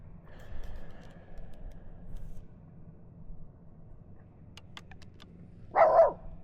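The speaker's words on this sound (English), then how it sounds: "Ellie Belly barking at the other guy in the kayak, so letting him know she's here." A pet dog barks from a kayak on a crappie fishing trip, a single short, loud burst near the end after a quiet stretch of water and wind noise.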